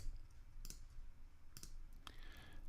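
Three sharp, quiet computer mouse clicks spaced about a second apart while the option key is held on a Mac, in a quiet room with no talk.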